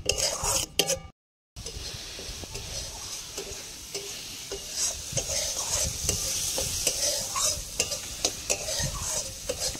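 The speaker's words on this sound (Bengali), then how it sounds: "আমি মশলাটা কষিয়ে নিচ্ছি।" Spice paste for prawn malai curry frying and being stirred in a pan, with steady close sizzling and repeated spatula scrapes throughout after a brief gap near the start.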